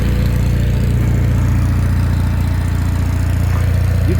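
An Onan RV generator runs steadily with exhaust pouring from its tailpipe, a constant low mechanical drone with a fine rhythmic pulse, close and loud with no talk.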